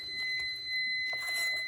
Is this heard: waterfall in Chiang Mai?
no